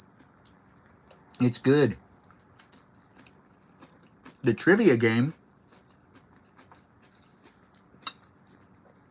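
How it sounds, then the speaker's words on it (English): Crickets chirp outside in a steady high, rapid pulsing trill that runs the whole time, while a person talks briefly twice over it. "the crickets are telling us the temperature it is outside."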